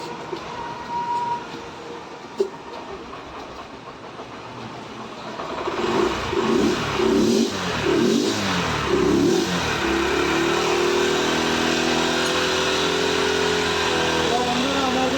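A Honda SP 125 BS6 motorcycle with a starting fault: a faint low rumble gives way to the engine firing and settling into a loud, steady run close by, with a voice speaking over it.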